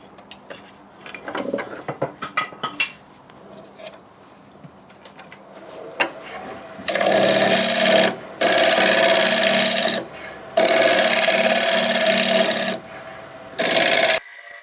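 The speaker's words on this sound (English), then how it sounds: "See if I can smooth that up with my negative rake scraper." A negative rake scraper rasps against a spinning wild cherry wood bowl on a lathe, in four or five loud, sustained scraping passes separated by short pauses, after some lighter tapping and handling noises.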